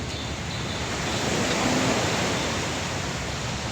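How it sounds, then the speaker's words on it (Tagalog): Continuous roar of surf at high tide on a dolomite beach, waves washing in, a dense, steady rushing noise with some wind across the microphone. "ito ay pa-high tide ang tubig. High tide ang dagat."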